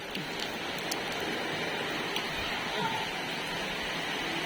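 Heavy rain from Cyclone Fengal in Chennai drums on a house's tiled roof, a continuous, even hiss and patter with no pauses, steady at moderate level.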